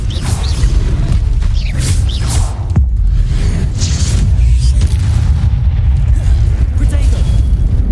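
Incendio fire spell blasts in Hogwarts Legacy, heavy booming bursts and whooshes over a dense, loud, continuous rumble of combat effects, with several impacts stacking in quick succession.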